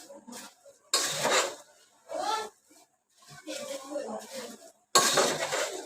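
Puffed rice (bhadang) being stirred in a pan, giving separated bursts of dry rattling and scraping with short quiet gaps between strokes, fairly close.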